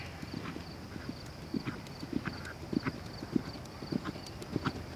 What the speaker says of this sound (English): I love her bouncy, springy canter.